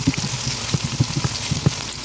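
Chopped onion and dried red chilies frying in hot oil for a lentil and bottle gourd curry, a close, steady sizzle with irregular small pops and crackles.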